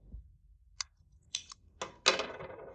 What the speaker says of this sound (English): Then I'll cut the end off with scissors.